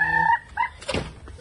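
Farm chickens on a rural property in Capiz on Panay Island give a few short, clear calls close by, followed by a louder burst of rough, noisy sound. No one speaks.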